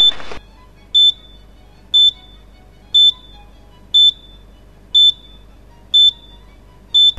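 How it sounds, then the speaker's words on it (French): Alarm beeping from a C6 transmitter unit: a short, sharp electronic beep repeats about once per second, eight times in a steady rhythm, loud and clear over a quiet background with no talking. "je peux entendre un signal sonore accompagné d'un flash lumineux du voyant rouge"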